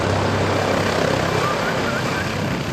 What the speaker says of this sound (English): there's a helicopter landing over there.